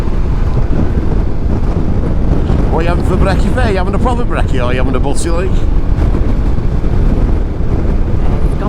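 Heavy wind buffets the microphone of a rider on a Morbidelli T1002VX adventure motorcycle, a constant low roar, while a voice talks over it in the middle.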